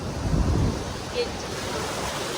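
Sea waves washing onto Phuket beach make a steady, diffuse rush, with wind buffeting the microphone and a slightly louder surge near the start.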